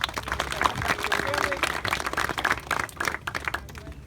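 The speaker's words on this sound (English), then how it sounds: "Can we give him a round of applause?" Applause from a crowd at Fort Mackinac before a cannon firing, steady dense clapping that fills the space for several seconds, with some voices mixed in.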